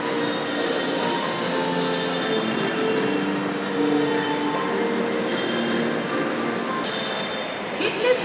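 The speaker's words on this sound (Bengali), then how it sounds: "মেট্রো চলে এসছে" A metro train pulling into Master Da Surya Sen station in Kolkata, a loud sustained rumble with faint wheel squeal on the platform, with people talking over it.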